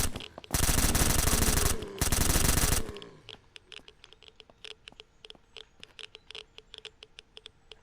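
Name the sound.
full-auto gunfire in the video game SurrounDead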